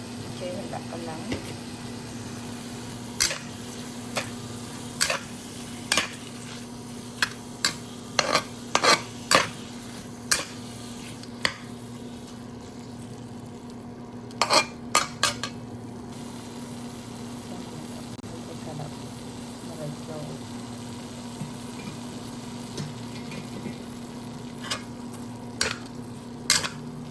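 A stir-fry with ginger is stirred in a pan, with scattered sharp utensil clinks and scrapes against the metal over a steady low hum and faint frying.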